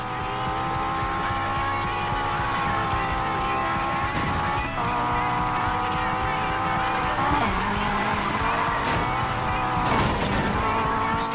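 Race cars in the video game Need for Speed Payback roar at full throttle with a steady engine drone, tires squealing and skidding through turns and occasional sharp impacts, with music or voices mixed underneath.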